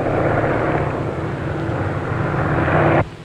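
Propeller airplane engine droning steadily and loudly in a 1937 film soundtrack, a continuous close hum that cuts off abruptly near the end.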